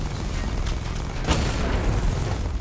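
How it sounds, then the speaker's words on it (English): Batmobile cannon in the video game Batman: Arkham Knight firing quick shots, heard as a dense low rumbling barrage with one sharper, louder burst midway, steady and close throughout. "if you hold down one button, you get quick shots like this"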